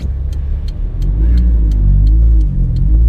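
A Honda Civic race car engine runs close and loud, a deep continuous rumble whose pitch rises and falls slightly as it revs, with sharp ticking clicks over the drone and no voices.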